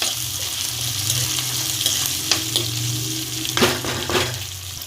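Potatoes, onions and green chillies fry in a pan on low gas while spices are mixed in for Rajasthani aloo pyaz sabzi, a close steady sizzle broken by several spoon scrapes and knocks against the pan.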